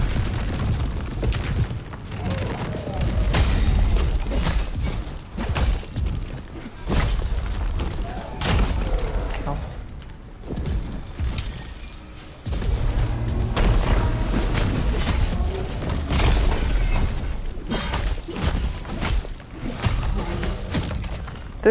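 Late-medieval cannons in the video game Enotria: The Last Song fire as a run of loud, heavy booms and thuds over a continuous dense rumble with scattered clatter.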